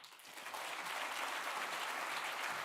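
An audience applauding after a speech at a Hong Kong event, steady sustained clapping from a large crowd that swells in over the first half second and carries on evenly.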